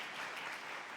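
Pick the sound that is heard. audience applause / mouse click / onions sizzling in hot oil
audience applause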